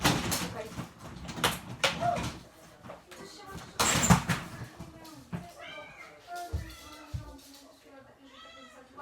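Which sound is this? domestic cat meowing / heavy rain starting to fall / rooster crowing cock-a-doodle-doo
domestic cat meowing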